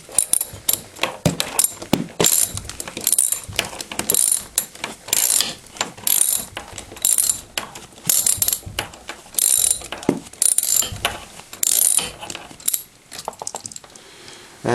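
A screw is undone on a Lee Pro 1000 progressive press during cleaning, producing a long run of close, rapid metallic ratcheting clicks in uneven bursts with brief pauses, no talking.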